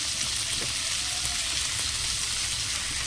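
Peas, ginger, cumin, radhuni, dried chilli and bay leaf tempering in hot oil, a constant bright sizzle and crackle at an even, fairly loud level with no talk over it.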